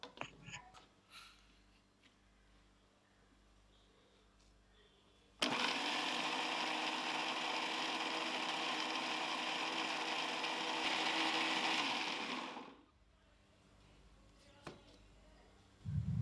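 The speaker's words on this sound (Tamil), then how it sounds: "இப்போ அடுத்த செட் எண்ணெயை ஊற்றிட்டு அதே மாதிரி கிரைண்ட் பண்ணிக்கலாம்" A mixer grinder whirs loud and steady for about seven seconds as oil is blended into egg for KFC-style egg mayonnaise, starting abruptly and cutting off, with quiet kitchen handling before and after.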